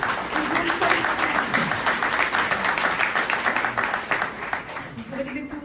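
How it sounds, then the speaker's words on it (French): Dense, sustained applause fills an awards ceremony hall, a steady wash of many hands clapping that holds strong and then begins to thin near the end, with a voice speaking faintly underneath. "je tiens à nouveau à vous proposer de les applaudir très chaleureusement."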